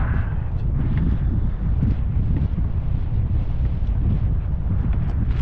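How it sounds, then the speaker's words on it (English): Strong wind buffets a boat at night off the Florida Keys, a loud, steady roar of gusts thumping across the microphone, with faint waves beneath. "That wind just cranking right now."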